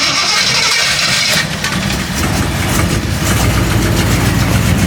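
A 52-year-old carbureted Jeep Wagoneer engine runs loudly close by, rough and uneven at first, then settling into a steady idle.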